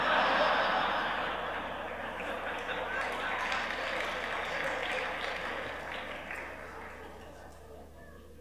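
An audience at a Christian forum talk bursts into applause, a dense wash of clapping that starts strong and tapers slowly, with a few chuckles mixed in, ending abruptly.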